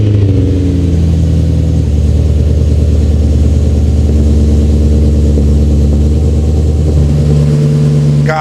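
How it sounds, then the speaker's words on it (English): A modified BMW E93 M3 with a nearly straight-piped exhaust fires up from cold, settling into a loud, deep, steady idle with a rough burbling rumble that holds throughout, close by with no talking. "no video starts off properly without a cold start"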